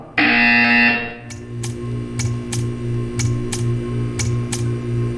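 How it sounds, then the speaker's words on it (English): A loud electronic buzzer sounds briefly in the Portal 2 video game, followed by a series of regular ticking clicks over a low hum. "You will hear a buzzer."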